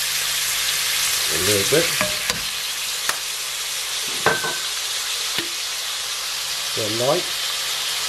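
Ox cheek and red and green pepper stir fry sizzles loudly and steadily in a hot pan as dark sauce is added, with brief spoken remarks over the constant hiss.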